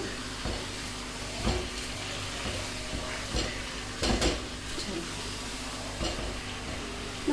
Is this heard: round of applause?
no